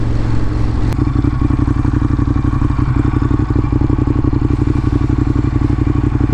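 A motorcycle rides through a snowy downtown, its engine thumping in a steady, rapid idle-like rhythm, loud and close, with a sharp click near the start and no speech.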